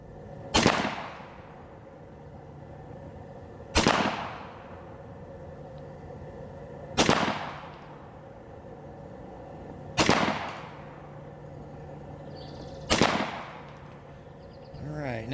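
A Western Airguns Mordax semi-auto PCP air rifle fires JSB Hades pellets: five sharp, loud cracks spaced about three seconds apart over a steady low background hum, with no talking.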